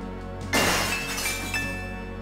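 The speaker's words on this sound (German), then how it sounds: "Gabriel hat das entfernte Geräusch von splitterndem Glas" Glass shatters in the distance within the Gabriel Knight adventure game, a single sudden crash with scattered tinkling fragments over a steady tonal game backdrop.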